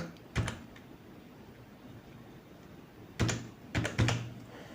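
Keys tapped on a computer keyboard while a reference number is entered, a single press early on and then a quick cluster of several keystrokes near the end, close and fairly quiet over faint room noise.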